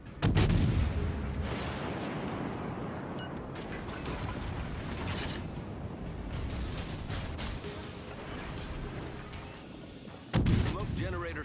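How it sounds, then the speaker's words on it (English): Naval gunfire and explosions from World of Warships Legends on PS4, with a sustained heavy rumble of battle, a sharp blast near the start and another burst near the end, plus mechanical clanks. "Concentrate fire on the enemy warship."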